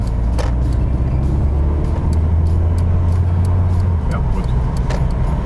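A car rolls along during a driving lesson, its low, steady road and engine rumble filling the cabin throughout, with a few brief spoken words from the occupants over it.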